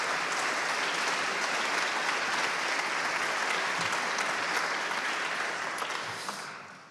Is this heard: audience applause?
yes